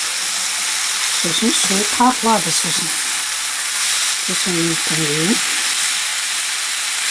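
Chicken meat fries in a pan for julienne tartlets, giving a strong, steady hiss and sizzle throughout, with a person talking over it in short stretches.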